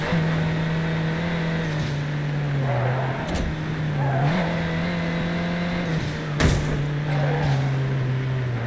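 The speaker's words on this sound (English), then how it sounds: "I do hear a blow-off sound" A car engine in the racing video game Midnight Club LA holds a steady, loud drone, broken by a few short whooshing bursts like a blow-off valve venting between shifts.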